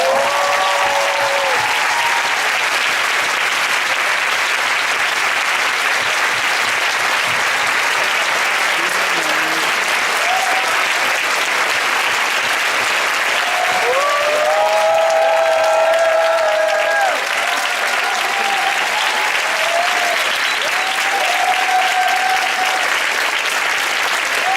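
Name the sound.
audience applause at youth business forum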